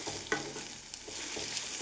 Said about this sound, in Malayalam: ചിക്കിയിട്ടാണ് ഇത് പൊരിക്കുന്നത്.